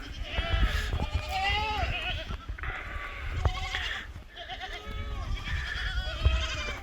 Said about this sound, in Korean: 여기가 이제 염소 농장입니다